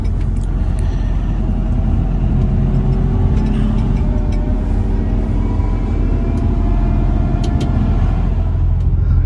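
Heavy trucks roll off a ferry at a port, a loud, steady low engine rumble with passing vehicles close by, continuous throughout.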